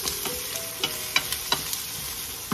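Chicken liver sizzles and fries in a pan for chop suey, a steady close hiss with scattered stirring scrapes and pops and no talk.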